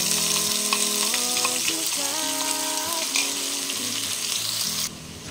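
Spice paste frying in oil with dried red chillies and green cardamom, a loud continuous sizzle and hiss running alone with a tonal hum beneath, then dropping abruptly near the end.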